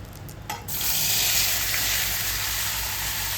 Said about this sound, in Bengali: এই পর্যায়ে এসে আমি একটু কালো জিরে ফোড়ন দিয়েছি আর সব সবজিগুলো দিয়ে দিলাম।